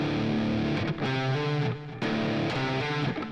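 An electric guitar with heavy distortion rings out its low two open strings in short chugging bursts, a loud repeated figure with brief muted gaps and no voice over it.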